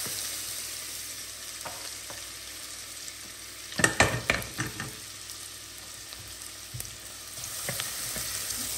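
Onion frying in a soup pot sizzles steadily, and a burst of stirring midway brings several close scraping clatters of a utensil against the pot.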